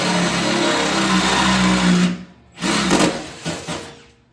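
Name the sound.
drilling holes for pedal mount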